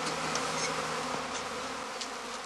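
A honeybee swarm clustered near a straw skep, a dense steady buzz of many wings, close and loud, continuing without a break.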